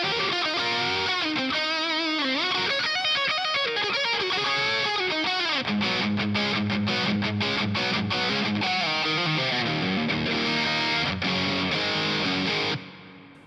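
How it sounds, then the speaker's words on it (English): Electric guitar played through a 1987 distortion pedal with heavy reverb, gain, level and tone set at noon: a thick, saturated sustained chord and note passage with lush reverb wash, loud and continuous until it cuts off at the end. "This is with all the distortion controls, the gain, the level, and the tone at noon."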